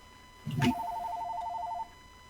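A telephone rings indoors with a bright electronic trilling burst lasting about a second, preceded by a soft thump, and no one speaks over it.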